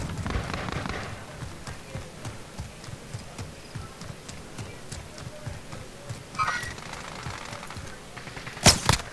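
Gunfire in Call of Duty Warzone, rapid sharp shots crackling at a moderate distance in bursts, with a louder crack near the end, while players talk over it.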